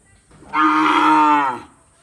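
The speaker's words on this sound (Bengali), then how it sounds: "একদম পিওর দেশি দেশি সব দেশি গরু" A single loud, drawn-out moo from a native desi bull lasting about a second, close by, with a quiet pause before and after.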